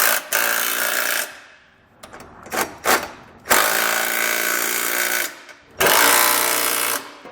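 A socket tool runs in loud bursts with pauses while an 11/16 socket snugs down Curt trailer hitch bolts on the frame rail of a 2020 Honda, sounding close and mechanical.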